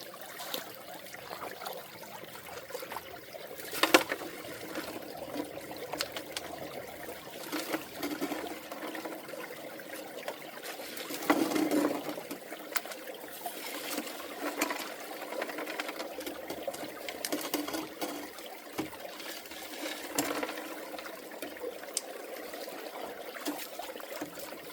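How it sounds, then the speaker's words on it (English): Water rushes steadily through a gold prospecting sluice box in a continuous, moderately loud wash, with occasional louder splashes and knocks breaking the flow. "the sluice is functioning quite nicely"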